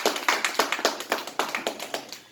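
Clapping during a church service: about a dozen sharp, evenly spaced claps in a steady rhythm, close and fairly quiet, with no talking over them.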